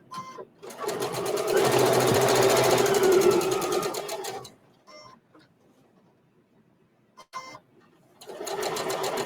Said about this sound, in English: I am still going to do that locking stitch